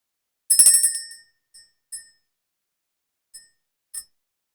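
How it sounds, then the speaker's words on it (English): A small bell is struck once and rings bright and clear, then decays, followed by four lighter, separate dings spaced out over the next few seconds, close and alone with no talking. "Let's ring the bell."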